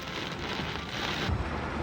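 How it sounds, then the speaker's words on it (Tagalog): Heavy rain pours over Metro Manila, a dense, steady hiss that fills the scene without letup and swells slightly toward the end with a low rumble underneath. "Pasado alas 5, bumuhos ulit ang malakas na pag-ulan."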